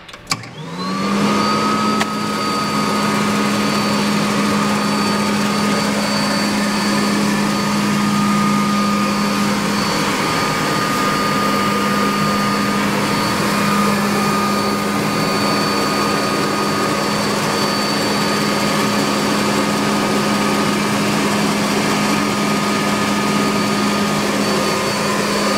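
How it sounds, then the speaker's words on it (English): A steady, loud machine drone starts up and runs continuously, the whirring vacuum motor of a Tennant Nobles 265XP 26-inch walk-behind floor scrubber with a low hum and brushing noise, no talking. "And we'll also turn on the water and the vacuum."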